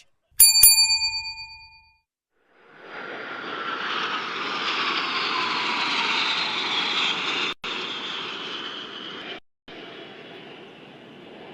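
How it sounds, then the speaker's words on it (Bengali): Five K-8W jet trainers fly overhead in formation at a winter state parade flypast. A short bell-like chime comes first, then a loud, sustained jet roar with a slowly sliding pitch fills the rest, briefly cut out twice. "পাঁচটি কেইডব্লিউ বিমানের সমন্বয়ে গঠিত একটি ফাইভ সিপার এয়ারওয়েড ফরমেশন চমৎকার দক্ষতার সাথে প্রদর্শন করছে হরাইজন্ডাল ফিগার অফ এইট"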